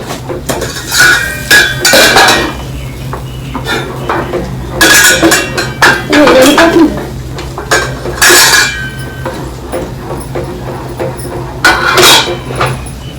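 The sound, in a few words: stirring upma in a pan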